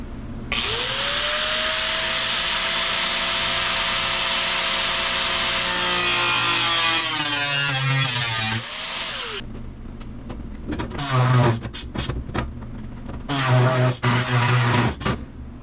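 Harbor Freight Central Pneumatic air body saw cutting into the body of a 1955 Chevy near the gas door, a loud sustained reciprocating buzz that rises in pitch, then short choppy bursts of cutting, close up.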